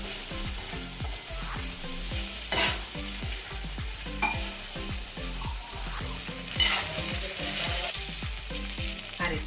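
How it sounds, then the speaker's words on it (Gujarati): Sabudana khichdi is stirred steadily in a pan over a low gas flame, with a continuous soft sizzle and a regular rhythm of scraping, clicking spoon strokes close by. "સાબુદાણા સડી જાય ત્યાં સુધી આપણે ધીમે ધીમે આ રીતે ફેરવતું રહેવાનું।"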